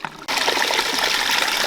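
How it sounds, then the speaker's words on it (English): Water gushes strongly down a small gold panning model waterfall built with placed boulders, a loud, steady rushing splash that starts abruptly after a quiet moment and continues without pause. "Alright, I increased the water flow"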